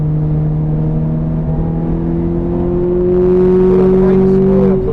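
A Ferrari F430 on a wet Silverstone circuit gains speed gently and shifts up a gear, its engine a steady, loud drone that climbs in pitch toward the end, with an instructor talking over it.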